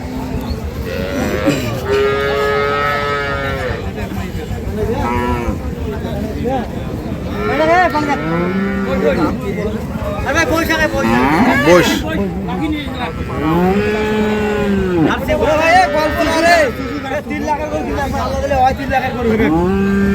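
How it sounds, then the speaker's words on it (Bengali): Dairy cows with calves at the Ambari haat cattle market moo repeatedly and loudly nearby, one long low call after another, amid steady market noise and people talking. "আরও গরু আছে"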